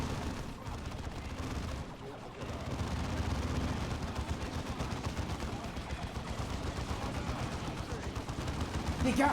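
Two turrets hosing an area with rapid gunfire in Dawn of War 2, a dense continuous rattle of shots layered with battle noise that runs the whole time and swells louder toward the end.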